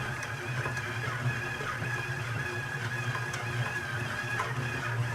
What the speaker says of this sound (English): It's starting to pull the flour away from the sides, and so it's cleaning the bowl pretty well around the mixer.